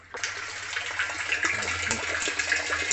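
Water gushes from the outlet of a Boyu DS1500 fish pond pump, starting abruptly and then pouring in a steady, close splashing stream with small bubbling fluctuations.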